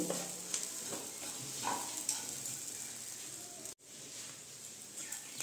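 Chilli and cumin powder are stirred into frying Bengali bhuna khichdi, a close, soft sizzle with scraping spoon strokes, briefly cut off near the end and then resuming.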